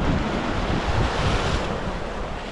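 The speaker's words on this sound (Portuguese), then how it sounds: "o mar bate onda aqui em cima" Sea waves break against rocks at Arraial do Cabo on the Brazilian coast: a loud, continuous wash of surf with heavy wind rumbling on the microphone and no voices.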